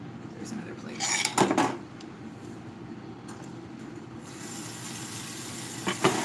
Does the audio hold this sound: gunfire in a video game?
no